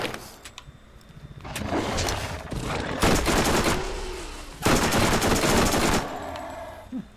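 Submachine gun fire in the Borderlands shooter, heard as long, loud, rapid automatic bursts that come in several sustained volleys between brief pauses, with game ambience underneath.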